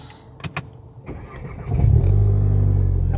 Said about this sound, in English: Okay, so let me just start the car.